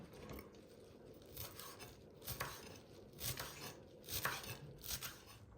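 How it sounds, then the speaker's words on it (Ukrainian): Fresh cilantro being chopped on a board, with soft, irregular knife taps repeating every second or so, faint and close, alone without talk. "Нарізаємо нашу зелень."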